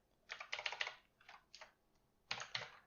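Typing on a computer keyboard while writing QML code: close, quiet bursts of rapid key clatter, then a few scattered single taps, then another quick flurry after a short pause.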